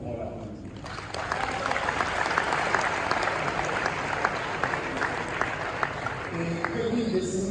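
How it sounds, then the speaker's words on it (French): An audience claps at the closing ceremony of the Expobeton 2024 exhibition in Kinshasa, steady dense applause starting about a second in and continuing throughout, fairly distant and moderate in level. "Encore une fois, on l'applaudit."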